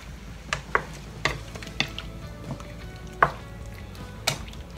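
Pork and chicken adobo with oyster sauce being stirred in a pan, soft simmering hiss under a series of distinct utensil scrapes and clicks against the pan at irregular intervals.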